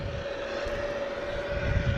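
A Virgin Airbus A330 bound for London moves along at Logan Airport at night. A steady, loud jet engine roar carries a sustained whine and swells slightly toward the end.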